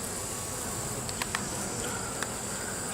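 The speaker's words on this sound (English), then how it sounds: "A lot of bees." Honey bees swarm around an open hive, a dense, continuous, fairly close buzzing drone with a few individual bees passing near, no voices.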